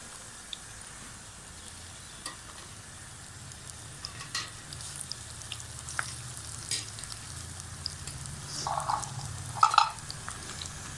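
Okra (bhindi) pieces frying in a pan with a steady, soft, close sizzle and occasional small pops and scrapes, without any talking.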